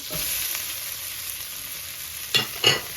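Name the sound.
garlic and onion frying in pan with Swiss chard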